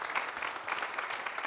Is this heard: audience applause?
yes